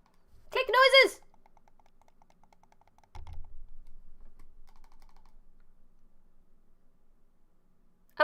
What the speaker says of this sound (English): Click noises!